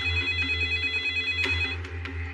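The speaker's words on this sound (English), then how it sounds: "when the phone rang" A telephone bell rings steadily in an office, a loud, close, continuous trilling ring with a few brief pulses in its pattern and no talk over it.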